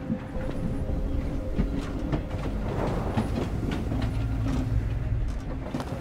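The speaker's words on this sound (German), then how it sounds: "Lass den Zug einfach mal rollen." A train rolls along rails in the video game Voidtrain, giving a continuous rumbling ride with repeated clicking and clacking transients over a dense low drone, steady and fairly loud throughout.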